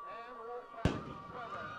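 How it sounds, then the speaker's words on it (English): A cannon is fired after a high school football win on a rainy night, a single sharp boom that rings out briefly beneath a commentator's ongoing talk. "The cannon goes off here."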